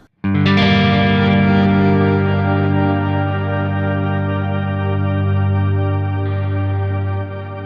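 A loud, sustained distorted drone holds steady for several seconds, washed in reverb from the Archetype: Rabea X plugin, then cuts off abruptly.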